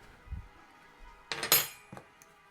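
Cutlery and a plate clink on a table during a meal, a faint knock early on followed by a cluster of sharp metallic clinks, then two lighter taps, close by and with no talk.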